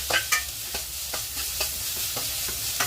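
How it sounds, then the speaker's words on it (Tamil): Onions sauté in a pan with a steady sizzle, broken by repeated scraping strokes of a spoon stirring, loud and close with no voices. "வெங்காயம் நல்லா வதங்க விட்டுட்டு எல்லாமே ஒன்றையாக ஒன்றா சேர்த்துக்க போகிறோம்."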